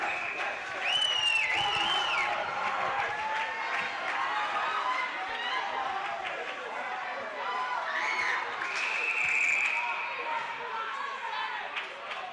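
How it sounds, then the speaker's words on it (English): A Butler high school hockey crowd at a PIHL playoff game against Peters Township keeps up a loud, steady chant and cheer that fills the arena for the whole stretch, with an announcer talking over it. "The Butler crowd, the yes chant."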